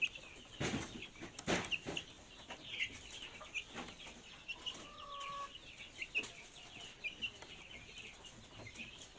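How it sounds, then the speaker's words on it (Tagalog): Barred Plymouth Rock chickens cluck and murmur in a flock, with scattered soft calls and a few louder sharp bursts over a steady background hum, no speech. "Soon to be hen barred plymouth rock."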